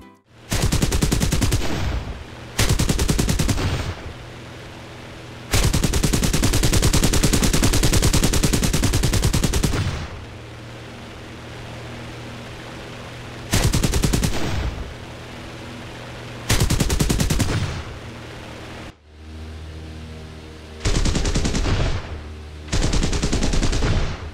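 American aircraft machine guns and 20mm cannon fire in War Thunder, loud sustained bursts of rapid shots separated by short pauses, the longest stream lasting several seconds, with no voices.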